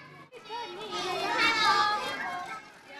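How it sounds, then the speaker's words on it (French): Young children leaving school in Lhasa, Tibet make a continuous busy chatter of high voices and calls, moderately loud and filling the whole stretch, with no single voice standing out. "Une sortie d'école de jeunes enfants."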